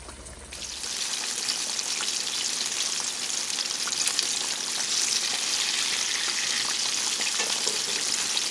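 Two large chicken breasts fry in hot oil, giving a dense, steady crackling sizzle that begins abruptly and holds loud and close with no voices over it.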